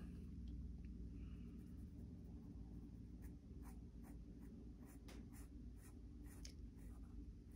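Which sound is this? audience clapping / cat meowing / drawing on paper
drawing on paper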